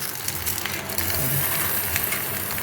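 Goat liver wrapped in banana leaf fries in a wok, a close, steady sizzle and crackle with faint scraping and no voices.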